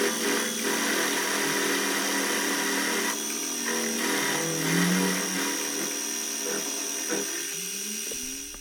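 A power tool cuts an oval hole during work on an American La France V12 engine and gearbox, giving a steady, loud whine with uneven grinding bursts that runs continuously for several seconds with no talk.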